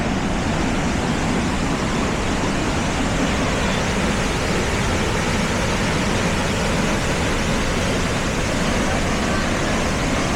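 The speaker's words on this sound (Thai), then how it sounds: "นี่คือความงดงามของน้ำตก" The Haew Narok waterfall at Khao Yai gives a loud, continuous roar of rushing water, steady and unbroken throughout with no voices.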